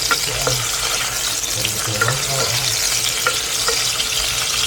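Chopped tomatoes for pakbet sizzle steadily in a hot pan, a constant bright frying hiss with occasional stirring scrapes, heard close and alone with only faint background hum.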